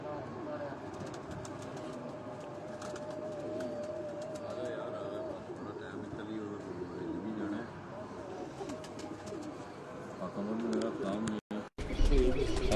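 Soft, low pigeon coos repeat from a rooftop over a steady hum of background noise, with occasional chirps and a brief burst of handling noise near the end.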